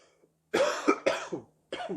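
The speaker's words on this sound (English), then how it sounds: "I'm about to cough again." Three harsh, close coughs come in short bursts, the first two back to back and the third after a brief pause.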